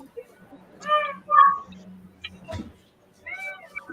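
A cat meows several times in drawn-out, whiny calls, fairly close, with quiet background noise between them.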